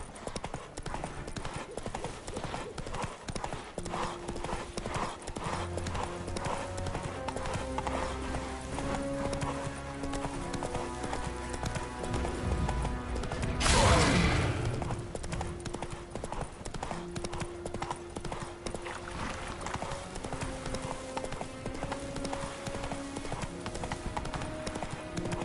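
A horse gallops in The Witcher 3: Wild Hunt, its rhythmic clip-clop of hooves steady and close throughout, with a short louder whinny-like burst midway.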